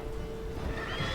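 Horse in The Witcher 3 video game gives a short whinny, heard clearly over a low game backdrop.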